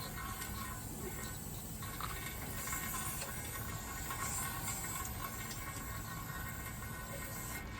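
Carburetor cleaner sprayed to flush the rocker shaft of a 1963 AMC 287 engine, a continuous close aerosol hiss held steady throughout with no pauses or voices.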